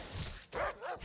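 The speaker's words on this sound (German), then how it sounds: "da greifen uns gerade wieder Hunde an" Dogs barking in World of Warcraft, two short sharp barks in quick succession over a quiet hum of game background sound.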